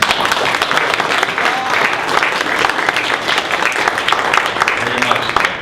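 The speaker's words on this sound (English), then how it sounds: "we'll give you a second round of applause" Audience applause at a seminar on the New Hampshire constitution, a steady dense clapping from a room of people that runs the whole time at a fairly loud, even level.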